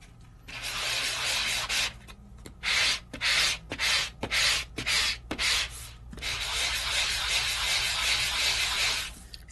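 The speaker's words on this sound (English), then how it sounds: "Let's give it a really nice sanding." A sanding block rasps across green paper in close, loud bursts: a long rub, then a quick run of short rhythmic back-and-forth strokes, then a longer steady rub, with no talking.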